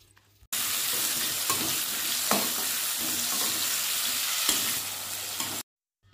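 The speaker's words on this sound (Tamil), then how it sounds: "இப்போ இந்த தக்காளி காய் நல்லா எண்ணெயிலேயே வதங்கி நல்லா சுருங்கி வந்துருச்சு." Green tomatoes sautéing in hot oil in a pan, a dense steady sizzle with occasional soft stirring knocks, cutting in abruptly and stopping short, no speech.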